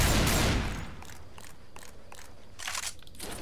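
Burst of automatic shotgun fire from the Spaz in a modded Left 4 Dead 2 match: a loud blast at the start followed by a string of sharp, rapid shots fading into repeated cracks, heard alone with no voices.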